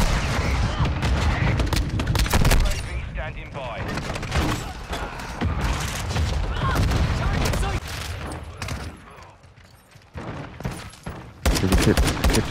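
Rapid pistol gunfire in a shooter video game, loud repeated shots in dense bursts across most of the stretch, briefly thinning before the firing resumes.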